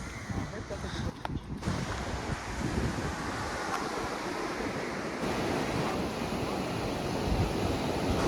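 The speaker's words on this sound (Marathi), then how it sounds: "आता आलो आहे बेतालबातीम बीचवर" Surf washing steadily onto Betalbatim beach in South Goa, a continuous broad roar of waves mixed with wind buffeting the microphone, with faint voices in the background.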